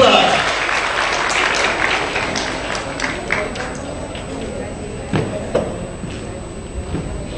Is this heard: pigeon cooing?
no